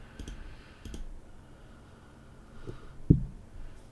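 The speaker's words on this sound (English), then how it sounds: "sorry for anybody who had to hear the clicking sounds constantly." Several sharp mouse clicks come in a quick pair near the start, then scattered single clicks, one louder and closer near the end, over a quiet room background.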